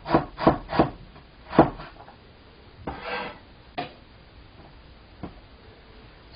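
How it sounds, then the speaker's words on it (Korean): Ginger sliced with a knife on a wooden cutting board: a quick run of sharp, close knocks, then a few scattered single taps with quiet gaps between, no voices. "생강도 편 썰어주세요"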